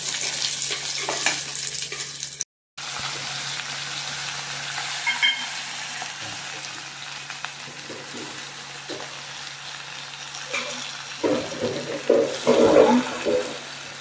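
Drumstick leaves frying with onions in a pan keep up a steady, close sizzle with no talk, broken near the end by louder scraping bursts of stirring.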